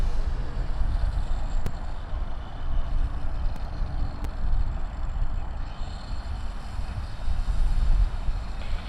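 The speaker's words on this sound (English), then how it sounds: "Sydney to Denpasar 737 MAX 8, flight number 172." A six-year-old Boeing 737 MAX 8 on the Sydney to Denpasar route roars with jet engine noise at Sydney Airport, a loud continuous rumble that holds steady throughout.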